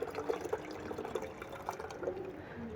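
Watermelon juice pours slowly from a dispenser, a faint, soft trickle with small splashy bursts spread over a few seconds.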